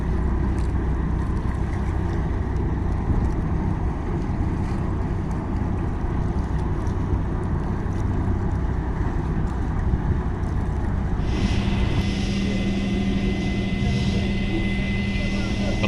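The KMP Reina ferry idles loudly while unloading, giving a steady low engine drone and rumble with a brighter mechanical hum joining near the end; people talk over it.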